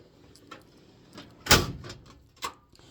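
A large, deep storage drawer slides along its runners, one loud rolling rush in the middle with lighter knocks and clicks before and after, close by and without talk.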